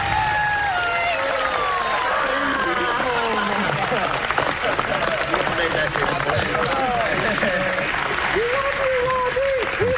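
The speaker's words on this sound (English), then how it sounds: "Clapping." A studio audience at a Bachelorette reunion claps steadily for the full stretch, a dense wash of applause with some cheering mixed in and voices running underneath.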